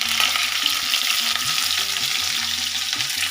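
Cauliflower fries in a hot pan with oil, a dense continuous sizzle heard up close with light stirring underneath.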